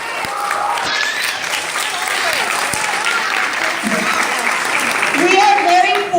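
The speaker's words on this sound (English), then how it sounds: "I want at this time for you all to help me give a big round of applause to our director, Mr. Catarino Rodriguez." A school audience gives their director a big round of applause: dense, sustained clapping from a crowd that swells toward the end, with a few voices and cheers mixed in.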